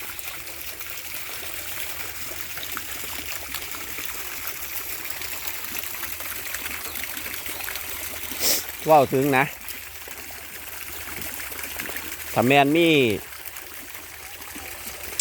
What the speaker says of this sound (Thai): เสียงน้ำพุ